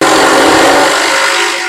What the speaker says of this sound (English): you'll learn the sounds of the drill as you learn how to use a drill.